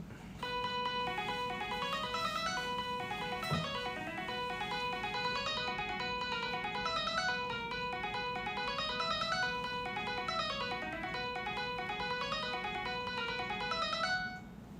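Chiptune melody plays back at 140 bpm in a handheld rhythm game build, bright bouncy square-wave notes looping continuously and loudly before cutting off near the end, without speech.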